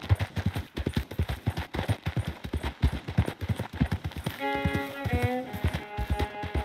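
Horse hooves in Red Dead Redemption 2 clip-clop in a quick, steady gait, with a brief musical tone late in the clip and no voices.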